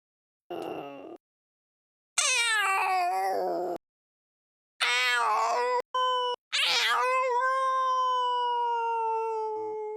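A voice imitates a dying Minecraft cat in short, strained, wavering meows and drawn-out yowls, several separate bursts with silent gaps between them.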